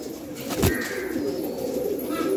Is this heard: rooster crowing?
no